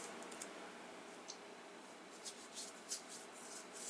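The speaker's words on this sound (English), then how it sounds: "if we start typing in the word power," Faint, scattered keystrokes on a computer keyboard of a Windows desktop or laptop as a word is typed into a search box, a few light clicks spread over a quiet, hissy background.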